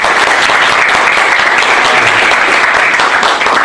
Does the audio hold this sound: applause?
yes